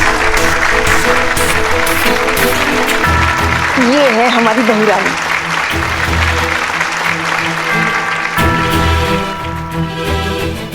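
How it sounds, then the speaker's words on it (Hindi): An audience applauds in a Hindi television comedy scene, a dense clatter of clapping running under background music while someone speaks a line over it. "जोरदार तालियां हो जाए।"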